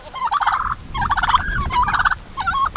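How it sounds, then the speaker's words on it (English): Turkeys gobble loudly in repeated bursts while fighting a rooster on a farm, an agitated, squabbling chorus of close fowl calls. "We got some arguing going on over here with the turkeys and the rooster"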